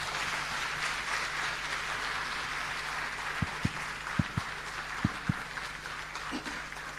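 An audience at an intellectual festival claps after a speech, a continuous even patter of many hands with a few sharper, closer claps standing out near the end.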